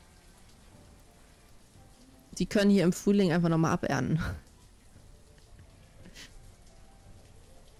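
Rain in the city-building game Banished makes a soft, steady patter throughout, while someone speaks German briefly in the middle.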